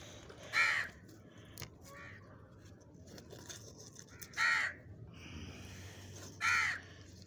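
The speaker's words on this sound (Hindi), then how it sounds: "ये देखें कौवा है।" Crows caw three times in a garden during a vegetable harvest, each call a short, clear burst at moderate distance, separated by quiet outdoor background with light rustling.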